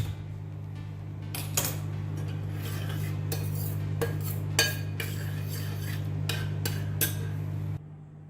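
A spoon stirs toor dal in a metal pot with repeated clinks and scrapes against the sides over a steady low hum of the simmering pot, with no voices.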